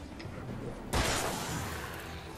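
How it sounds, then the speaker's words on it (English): A flashbang goes off in the Alan Wake video game with one sudden loud burst about a second in, followed by a lingering ringing wash that slowly fades over steady background noise. "I was hoping it was a flare, not a flashbang"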